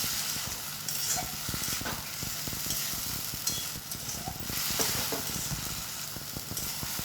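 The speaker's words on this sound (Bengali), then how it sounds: "এবারে সেটা নাড়াচাড়া করে তারপর জল দিয়ে দেবো।" A coriander paneer dish being stirred in a hot pan, with continuous sizzling and frying hiss under repeated scraping strokes of a spoon against the pan, close and steady throughout.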